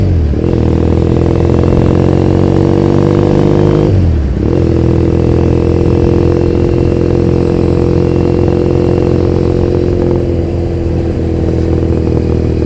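A motorcycle engine drones loudly and close while riding in Tokyo, with a brief dip in revs partway through before it settles back into a steady ride.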